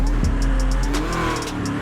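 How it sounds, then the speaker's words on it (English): A Dodge Challenger Hellcat engine, a supercharged 707 model in the game GTA 5, rumbles low and steady with a brief rev, with sharp clicking ticks over the deep engine drone. "I gotta let y'all hear that engine noise. And this Hellcat, this a Hellcat we riding in."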